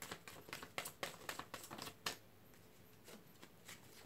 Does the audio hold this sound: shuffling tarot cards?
yes